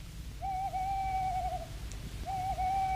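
An owl gives two long, drawn-out mournful hoots before dawn, each held for over a second with a slight waver, heard clearly against a low rumbling background.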